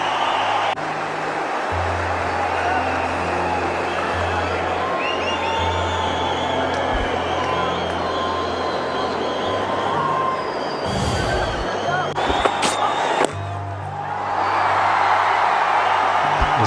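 A large cricket stadium crowd at an India versus Pakistan match roars and cheers after a no ball, a dense sustained wash of voices with horns and whistles, swelling louder toward the end.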